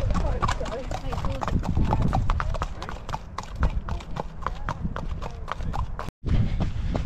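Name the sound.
horses galloping during a workout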